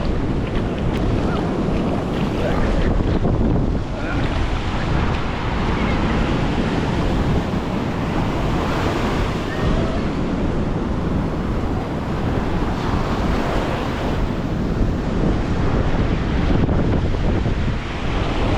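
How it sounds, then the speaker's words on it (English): Powerful surf surges onto a high-tide beach on Florida's Emerald Coast in a steady, loud roar that never lets up, with heavy wind buffeting the microphone throughout. "them waves are so powerful"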